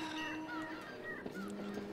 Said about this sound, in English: which has what sounds like a lot of seagulls in it.